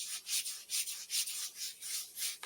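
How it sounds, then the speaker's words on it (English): Scrubbing skin with a scrub tool to remove tan, a soft rhythmic rubbing that swishes back and forth about eight times, close and fairly quiet. "give myself a good scrub with this"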